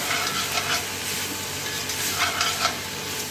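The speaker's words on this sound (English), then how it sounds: "We're gonna let that brown up, get it nice and caramelized, almost like you're making an onion soup." Onions brown in a hot pan for beef carbonnade, a loud steady sizzle with occasional stirring scrapes, close and continuous with no talking.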